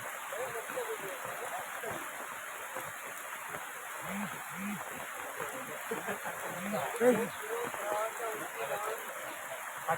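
Heavy monsoon rain pours onto a flowing stream in Konkan during the Ashadh month, a steady dense hiss with faint low voices murmuring underneath.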